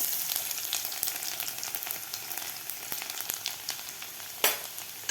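Garlic frying in hot oil with cumin seeds, asafoetida and popped mustard seeds for an amla dal, giving a steady dense sizzle with a few crackles and a sharper stir-scrape near the end, close and alone with no talking.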